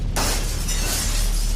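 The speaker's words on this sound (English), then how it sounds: "Outside, windows shattered outward from the heat." A loud, dense crash of windows shattering from the heat of a house fire bursts in and sustains with a roaring, crackling wash behind it.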